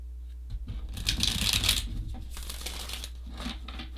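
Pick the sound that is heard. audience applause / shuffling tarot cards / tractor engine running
shuffling tarot cards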